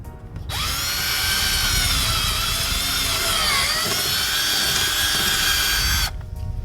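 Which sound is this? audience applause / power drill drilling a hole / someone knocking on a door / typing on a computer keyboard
power drill drilling a hole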